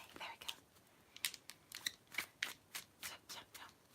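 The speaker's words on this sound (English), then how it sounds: "Ooh, riffle shuffle the other way now, so they don't get all bendy." Playing cards are riffle shuffled in a series of quick crisp ripples, close and quiet, with about ten short bursts in steady succession.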